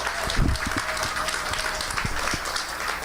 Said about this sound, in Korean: 지금 기부해 주신 분들한테 큰 박수 한번 부탁드릴게요